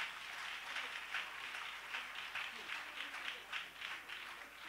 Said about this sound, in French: On acclame le Seigneur pour cela.